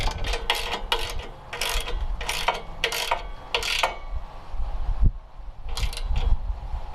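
A ratchet drives self-tapping bolts into the bagger mount of a Toro TimeCutter mower, giving quick bursts of rapid clicking separated by short pauses, then a second run of clicks after a brief lull.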